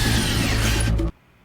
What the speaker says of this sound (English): we have successfully stabbed the hard drive with the drill